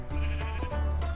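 Several sheep bleat in a Minecraft game, three or four short nasal bleats in quick succession, close and clear with no talking over them.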